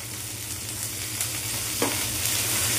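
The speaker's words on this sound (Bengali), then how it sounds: "এই ধনেপাতা কুচিগুলো এর মধ্যে দিয়ে নাড়াচাড়া করে নামিয়ে দেবো" Chopped coriander is stirred into a sizzling Bombay duck (lote fish) curry, with a continuous close hiss and occasional scraping taps from the stirring, without any voices.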